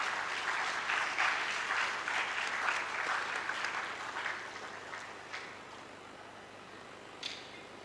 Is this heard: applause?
yes